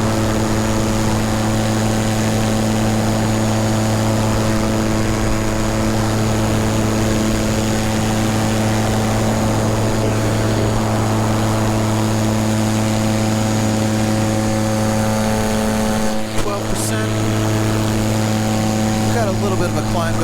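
An electric paramotor's propeller runs at about half power in flight, a loud, steady droning whir with a constant tone close by, broken by brief wind buffeting near the end.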